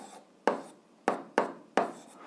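Pen strokes write an equation by hand on paper in a math lesson, four short scraping strokes close by and spaced out, alone.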